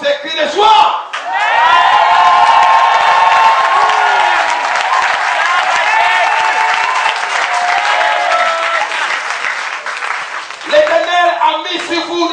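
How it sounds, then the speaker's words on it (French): Church congregation at a night vigil cheering, whooping and shouting for joy, a loud sustained crowd roar with clapping that swells after a brief pause and fades near the end. "lève-toi et pousse des cris de joie"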